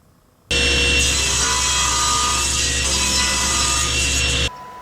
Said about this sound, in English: we're going to cut a piece of black ABS plastic